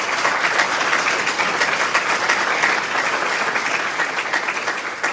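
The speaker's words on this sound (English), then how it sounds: "that might be your last clap" A large crowd at a municipal mayoral debate applauds in a thick, continuous wash of clapping that holds steady throughout, with no voices rising above it.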